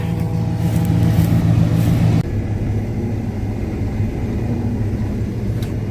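A combine harvester drives out to mow wheat, its heavy engine drone loud and steady throughout, with a deep low rumble that drops slightly in level about two seconds in and then holds constant.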